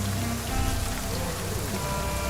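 Heavy rain falling steadily outdoors, a dense, loud, continuous hiss of drops striking surfaces with no pauses and no voices.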